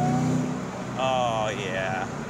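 A 2004 Ford Mustang SVT Cobra convertible with 390 horsepower accelerates in fifth gear, its engine note rising steadily beneath someone talking inside the car.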